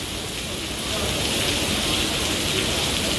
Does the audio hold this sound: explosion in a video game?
no